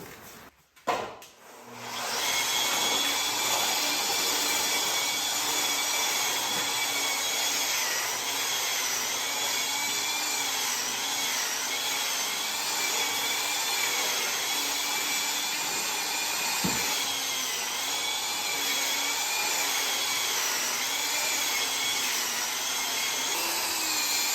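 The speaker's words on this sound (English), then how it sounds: "So I'm gonna just use 80 grit on our drywall sander." A drywall sander fitted with 80 grit paper scuffs a cured epoxy surface; after a brief thump it settles into a loud, steady whirring drone with grinding, lasting to the end without speech.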